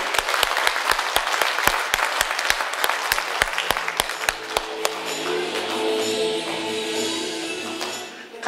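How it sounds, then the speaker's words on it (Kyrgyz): An audience applauds at a small Mother's Day concert in Kemin, Kyrgyzstan. It begins as distinct, fairly even claps, then swells into dense, continuous clapping that carries on steadily before thinning out at the end. "Кол чабуулар менен."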